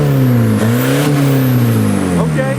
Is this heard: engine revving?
yes